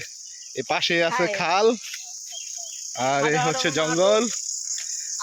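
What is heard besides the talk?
crickets chirping by a village road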